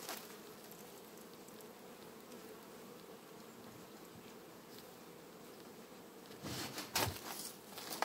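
Honeybees buzz in a steady, faint drone as they are shaken from a hive frame into a temporary box in September, with a louder swell of buzzing and a few knocks toward the end.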